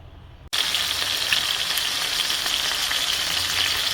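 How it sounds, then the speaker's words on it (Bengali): Meat sizzles in a hot pan as it fries for a roast, a sudden loud hiss that starts abruptly and then holds steady and close with a crackling spatter, and no one talking. "রোস্টের জন্য মাংসগুলো ভেজে নিচ্ছি"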